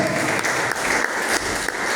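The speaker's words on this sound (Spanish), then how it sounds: "¿Cuánto le dan un aplauso al Señor esta noche?" A church congregation applauds during an evening sermon, dense continuous clapping filling the room at a fairly loud, even level, with no voices over it.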